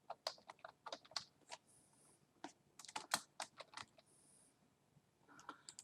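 Someone types on a computer keyboard, producing quick irregular bursts of clicking keystrokes with brief pauses, close and fairly quiet, with no talking.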